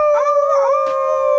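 A man imitates a wolf to answer nearby wild wolves, giving one loud, sustained howl close up with a slight waver in pitch, alone with no talk.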